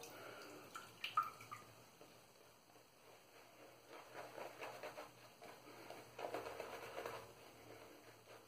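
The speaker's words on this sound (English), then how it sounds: "let's add a bit more water." Water being added to a boar-bristle shaving brush, quiet dripping and small splashy wet sounds in a few soft bursts, close but faint against a hushed background.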